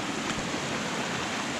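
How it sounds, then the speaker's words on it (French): Waterfall cascades rush along a mountain hiking trail near Mont Monnaie and Dzumac after weeks of rain, a steady, dense roar of falling water throughout, with no voices. "Il y a vraiment des belles cascades, hein."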